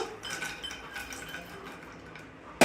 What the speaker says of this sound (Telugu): ఒక 2 టేబుల్ స్పూన్ నెయ్యి వేసుకుని కొంచెం కరిగే వరకు వెయిట్ చేయాలి. చేశాక మన డ్రై ఫ్రూట్స్, జీడిపప్పు